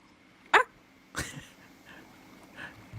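A person imitates a dog barking, giving a couple of short, sharp yapping barks spaced apart, followed by quieter breathy sounds in an otherwise quiet room.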